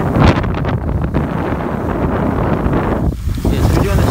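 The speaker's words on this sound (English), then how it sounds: "And of course it's windy." Strong wind gusts across a ski terrain park, buffeting the microphone with loud, continuous rumbling noise that swells and dips.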